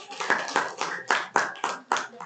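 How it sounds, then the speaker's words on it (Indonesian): An audience at an Indonesian storytelling session claps for a storyteller, with steady rhythmic claps at an even beat, loud and close. "Tepuk tangan untuk Arjuna."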